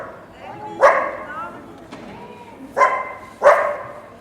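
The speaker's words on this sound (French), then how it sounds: "entendre l'aboiement d'un chien." A dog barks in a street in Montbéliard town centre, giving three or four sharp, separate barks from fairly close by, with quiet street ambience between them.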